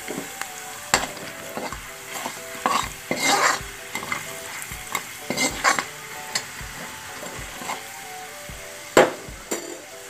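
Spoonful of turmeric stirred into chana bhaji frying in a pan, with repeated scraping spoon strokes against the metal over a steady low sizzle, close and moderately loud, no voices.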